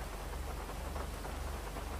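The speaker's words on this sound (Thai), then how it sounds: "เสียงฝนดังว่ะ" Heavy rain pours down steadily and loudly, a dense, even hiss with no pauses and no voices over it.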